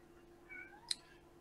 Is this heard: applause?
no